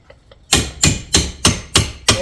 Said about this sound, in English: Drive a scraper in there, cut through the caulk.